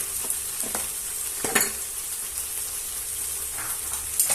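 Tomato paste splattering and sizzling in hot oil in a pan, a steady hiss punctuated by sharp pops and crackles, with no one talking.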